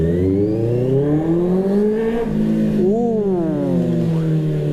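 A 2024 QJ Motor QJ 600 RR sport motorcycle engine revs up and falls back, its loud harmonic growl rising, dipping and climbing again close by.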